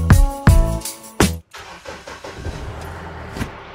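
A Mahindra Scorpio's engine cranks with a few loud, rhythmic turnovers, then catches and settles into a low, rough idle close by.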